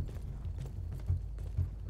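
Horse hooves clip-clopping in the World War I video game Battlefield 1, a steady low thudding rhythm with a few heavier strikes, fairly close and with no talk over it.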